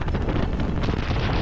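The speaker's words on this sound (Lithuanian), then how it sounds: "Puga." Strong wind in an Icelandic blizzard batters the microphone in a loud, continuous roar with gusting buffets, with no voice heard.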